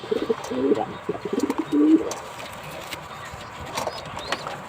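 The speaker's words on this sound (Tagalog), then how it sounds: "yan yung hen ko, si Falcon" A pigeon hen cooing close by, a few soft low coos in the first two seconds followed by quieter rustling and faint background ambience.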